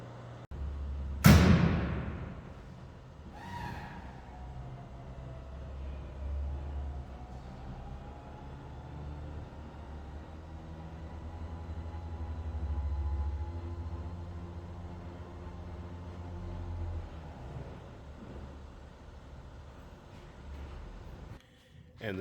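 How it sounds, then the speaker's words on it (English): A 1964 Oldsmobile Cutlass convertible's power top cycles up and down, a steady mechanical motor hum with a sharp clunk near the start and another at the end, fairly close and running alone for about twenty seconds. "And there's the top functioning up and down."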